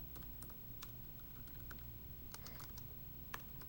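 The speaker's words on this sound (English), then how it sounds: "I will need the keyboard. So I'm going to type in" Fingers type on a computer keyboard in quick, uneven bursts of light clicks, faint and close in an otherwise quiet room.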